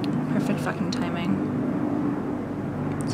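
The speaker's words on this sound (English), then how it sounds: "There's a helicopter going above me." A helicopter flies low overhead, its rotor throb a loud, steady drone with harmonic humming throughout, while a person talks over it.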